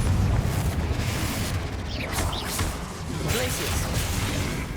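Confringo, an explosive fire spell in Hogwarts Legacy, bursts into a dense roaring blast with whooshing swells over a constant busy battle din, loud and near throughout.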